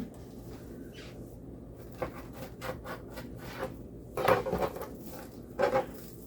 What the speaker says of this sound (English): I'm gonna cut it in half first and then slice it.